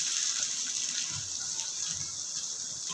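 Onions sautéing in a little hot oil in a pan for a sweet corn masala, giving a steady, fairly quiet broadband sizzle with no talk.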